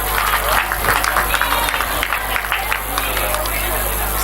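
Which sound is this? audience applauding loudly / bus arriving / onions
audience applauding loudly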